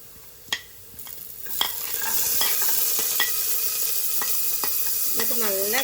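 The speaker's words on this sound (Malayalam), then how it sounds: "എന്നിട്ട് നമുക്ക് തേങ്ങാക്കൊത്തും കൂടെ ആഡ് ചെയ്ത് കൊടുക്കാം. നല്ലോണം ഒന്ന് ഇളക്കി കൊടുക്കാം." Coconut pieces for Kerala kalathappam stirred in a hot pan, steady sizzling frying beneath repeated sharp scrapes and clinks of a spoon against the metal, close and fairly loud, with no talking.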